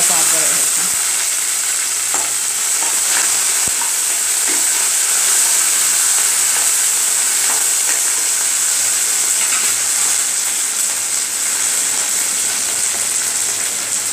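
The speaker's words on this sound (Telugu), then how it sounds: "ఎండుమిరపకాయలు వేసేసాం." Dried red chillies frying in hot oil for a tempering with seeds, a steady, loud sizzle and hiss that runs unbroken from start to finish with occasional small crackles, no voices.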